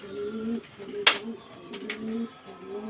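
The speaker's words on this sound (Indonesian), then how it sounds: "Ini burungnya yang ini nih, yang kelabu pangkat." A grey songbird at an Indonesian bird-singing contest gives low, repeated cooing calls in a steady pattern, with a sharp click partway through and faint background voices.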